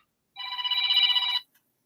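A telephone rings once in a single bright, steady electronic burst lasting about a second, fairly loud and close, then stops and leaves silence. Nobody speaks.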